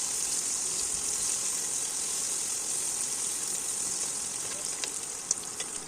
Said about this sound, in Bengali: এখন কিউব করে কেটে রাখা পেঁয়াজ এবং সাথে কিছু রসুন কুচি দিয়ে দিন।